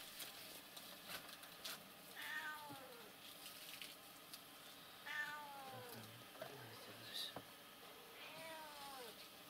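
Several cats meow repeatedly during a morning feeding when fish is set down, with rising and falling calls and an occasional caterwaul among background noise and faint voices.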